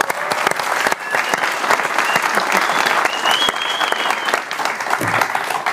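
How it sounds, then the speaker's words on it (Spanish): A studio audience applauds a guest on a comedy show, a dense, sustained burst of clapping that holds steady for several seconds and fades slightly near the end. "Un aplauso tiene... para el invitado."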